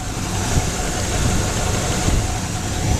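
A Chevrolet Caprice engine idles nearby with the stock air cleaner fitted, a steady, even low rumble that holds constant for the whole few seconds.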